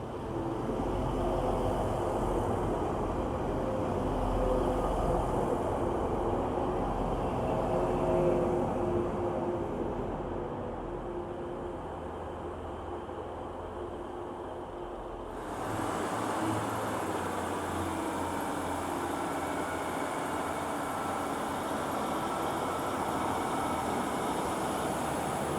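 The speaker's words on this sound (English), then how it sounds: "So now that Northern Train has left, heading to Bradford" A Northern train pulls out of Huddersfield Station bound for Bradford, its deep rumbling drone heard at a distance, steady and fairly quiet, then fading into the station's ambient hiss partway through.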